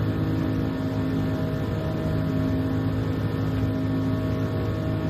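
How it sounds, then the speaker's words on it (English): A race car engine in Gran Turismo drones continuously at steady revs, a loud, dense hum with no pauses and no talk. "There's an audible change in the engine note."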